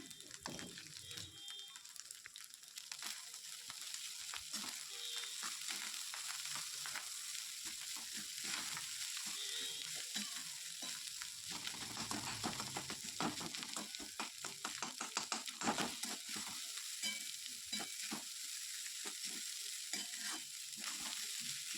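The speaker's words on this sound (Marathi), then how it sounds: "याला फोडणीमध्ये व्यवस्थित परतून घ्यायचा आहे" Leftover rice is stir-fried in a spiced tempering, a steady close sizzle with frequent scraping and stirring strokes of a spatula in the pan, no talk.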